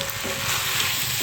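Drumsticks (sajne data) sautéing in a hot pan give a steady, close sizzle with a bright crackling hiss throughout a brief moment, no voices.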